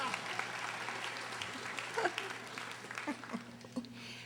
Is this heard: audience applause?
yes